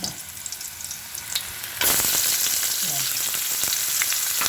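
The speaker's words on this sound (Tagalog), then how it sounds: "Pagkatapos, ihulog niyo yung puting sibuyas." Ginger is already frying in clean hot oil when white onion drops in, and the sizzle surges abruptly to a loud, steady, close hiss with scattered crackles.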